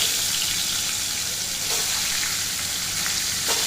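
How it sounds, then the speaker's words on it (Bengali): Pointed gourd (potol) pieces frying in hot oil, giving a steady, close sizzle with soft crackles and a few brief splashy bursts throughout. "তো চলুন এবার একে একে পটলগুলোকে আমি তেলের মধ্যে ভেজে নেব।"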